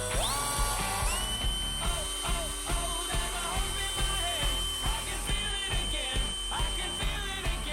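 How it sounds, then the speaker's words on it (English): A power drill whirs steadily with repeated bursts and pitch shifts as it bores holes, lubricated with WD-40, close and loud, with faint mechanical clicks between pulses. "to help it with drilling"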